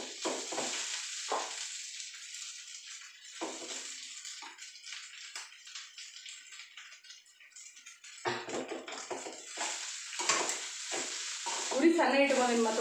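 Cooked lemon rice being stirred and tossed in a pan, with scraping and soft sizzling in uneven bursts, close and moderately loud; brief quiet stretches between the stirring strokes and a light rattle near the end.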